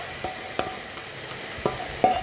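Tempering spices frying in oil for a sweet mango curry, with a few sharp clinks of stirring against the pan over a low, steady sizzle.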